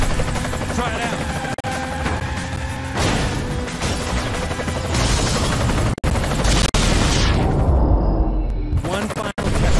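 Loud bursts of booming blasts and rattling impacts over a constant roar from the racing video game Split/Second, with a sudden drop-off near the end.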